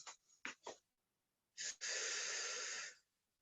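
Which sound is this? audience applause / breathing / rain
breathing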